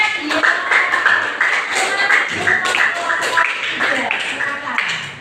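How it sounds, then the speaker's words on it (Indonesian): Students clapping in a grade 8 social studies classroom, quick rhythmic claps mixed with voices and chatter over a few seconds. "Silakan tepuk tangan dulu, biar semangat."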